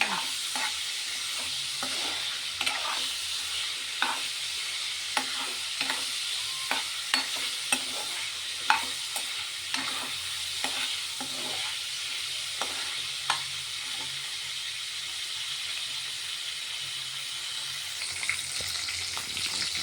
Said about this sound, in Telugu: ఇవి వేగితే వాసన స్మెల్ ఉండదండి అందుకే ఆయిల్లో వేగుతున్నామండి